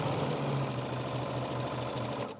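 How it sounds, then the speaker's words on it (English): Sewing machine running steadily as it stitches two quilt fabric pieces together for a four patch block, a loud, close, continuous rhythmic whir and clatter with no talking. "put 2 pieces together, right sides together, and sew along the line"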